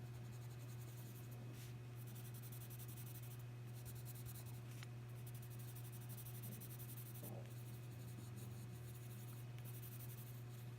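Colored pencil scratches softly across paper in short, repeated strokes over a low, steady hum.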